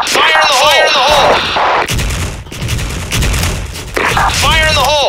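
A grenade explodes in the online shooter Soldier Front during a public match. Heavy booming blasts and gunfire roll through the middle, while voices shout over the noise at the start and end.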